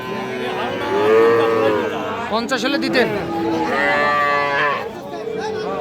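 Cattle, small bulls and heifer calves at a crowded Bangladeshi cattle market, give loud, drawn-out moos close by, layered over crowd chatter while people talk.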